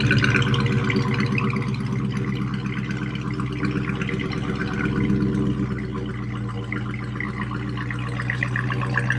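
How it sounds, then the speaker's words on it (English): A 2020 Dodge Charger Scat Pack V8 fitted with an MFER1 active exhaust cancellation idles steadily after startup, a loud, even low rumble that holds throughout with no talking. "now that we have the vehicle down and the MFER1 installed, we're going to do a quick startup here"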